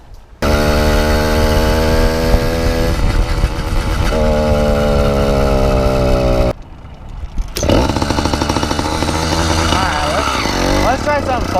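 A motorcycle with steel wool stuffed into its exhaust, loud and close, revving as it rides off, with a brief drop before the engine note climbs again through rising gear changes.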